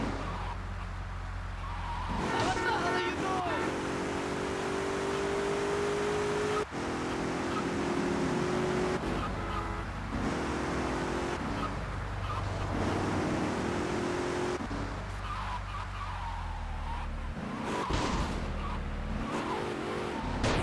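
A car driving in GTA Vice City: a steady engine drone with rising revs and gear shifts, some tyre squeal and skidding, running loud and continuous for about twenty seconds.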